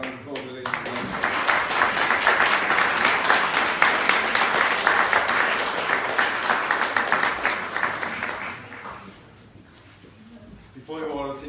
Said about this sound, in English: A round of applause for Elaine.